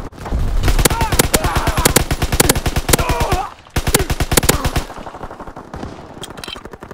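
Rapid automatic gunfire from Call of Duty WWII free-for-all multiplayer, loud continuous bursts of shots in quick rhythm with a short pause, then sparser firing, with faint speech underneath.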